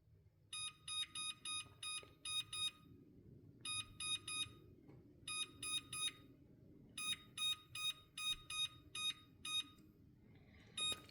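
Short bursts of high electronic beeps from an oven timer being set, in irregular clusters of quick tones with brief gaps, fairly faint over a quiet kitchen background.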